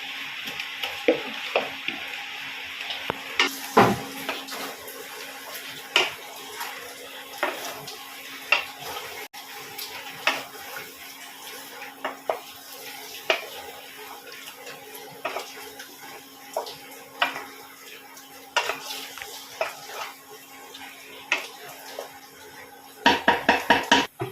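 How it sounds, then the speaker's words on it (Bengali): A spoon stirs Awadhi chicken korma masala in a pot, producing repeated close scraping and clinking knocks against the metal over a low sizzle, with a burst of clatter at the end. "আমি ভালো করে নাড়িয়ে দিলাম।"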